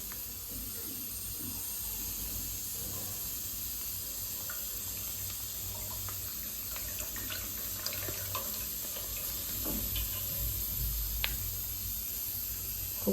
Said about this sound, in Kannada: ಇವಾಗ ನಾನು ತೆಂಗಿನೆಣ್ಣೆಯನ್ನು ಹಾಕೋತೀನಿ